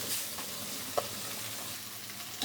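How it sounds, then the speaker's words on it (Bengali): Catla fish head frying in hot mustard oil in a wok: a dense, steady sizzle and crackle throughout, with a sharp clink near the middle and another near the end. "কড়াই গরম হয়ে গেছে, দিয়ে দেবো সরিষার তেল। মাছের মাথাটা দিয়ে দেবো।"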